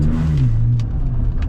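A Ford F-150 pickup fitted with a performance intake and exhaust gives a short, loud, close rev, its deep engine note swelling and then easing back down, with a faint whooshing breath on top.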